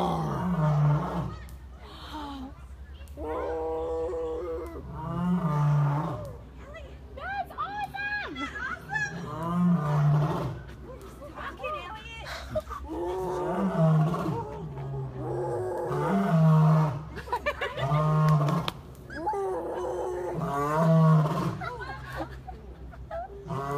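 A person imitates lion roars with the voice, repeated low growling bursts roughly every few seconds, mixed in with ongoing speech from the same speaker.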